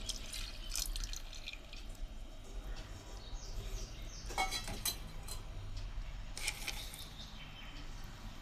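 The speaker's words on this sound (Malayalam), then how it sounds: "നമുക്ക് തേങ്ങാപ്പാൽ ഒഴിക്കാം." Faint coconut milk pouring and dripping into a pot of curry, a soft trickling with occasional splashes over low background hiss.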